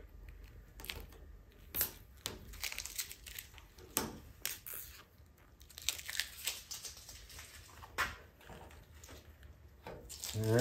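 Paint masking tape is peeled back by hand from the markings on a Jeep M38A1, giving quiet, close, irregular crinkling and tearing bursts with short pauses between pulls.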